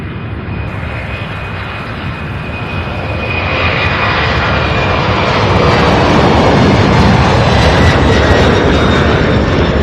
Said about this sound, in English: the MD-11 all lined up here for takeoff on 17 right